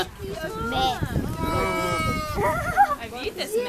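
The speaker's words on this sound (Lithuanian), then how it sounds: "Avytės mė." Sheep bleat in several drawn-out, wavering calls close by, one after another, with people talking among them.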